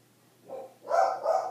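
Dogs barking in a home during a conversation, a couple of short bark bursts at moderate distance with no talk over them.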